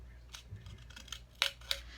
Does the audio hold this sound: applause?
no